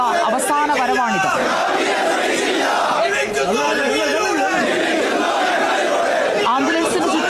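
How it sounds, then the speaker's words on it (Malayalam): A dense crowd surrounding an ambulance carrying a veteran communist leader's body to the party headquarters chants political slogans in loud rhythmic unison, repeated shouted phrases rising and falling over a constant roar of voices. "അദ്ദേഹത്തിന്റെ ആവേശമായിരുന്ന ആൾക്കൂട്ടം ചുറ്റും നിന്ന് മുദ്രാവാക്യം വിളിക്കുന്നത്"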